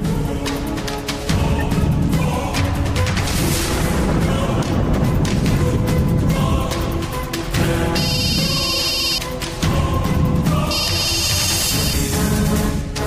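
A telephone rings in two short bursts, heard over loud, booming dramatic music.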